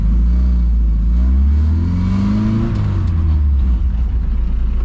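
A Saab 96 engine pulls hard while driving on a road, heard close and loud from inside, its revving drone rising and shifting in pitch before settling into a steady rumble.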